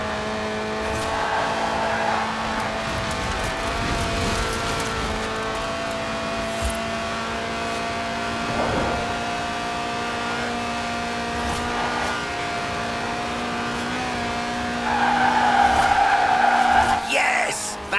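A lightweight 1.8-litre car that revs to 8,000 RPM, drifting in the racing game Forza Horizon 4: a sustained high engine whine with tire squeal, rising to a louder rev near the end, under a voice talking.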